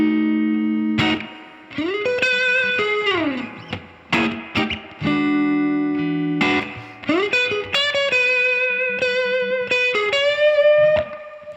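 Slow blues lead lick on electric guitar through the neck pickup and a 1966 Fender Vibrolux amp, played with the round side of a Fender medium pick: sustained bent notes and quick runs with short gaps, loud and close, alone without talk.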